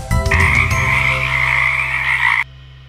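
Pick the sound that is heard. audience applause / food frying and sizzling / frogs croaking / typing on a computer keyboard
frogs croaking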